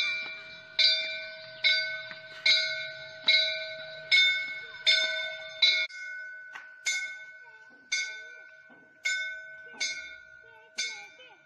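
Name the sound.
the Great Bell of Peking ringing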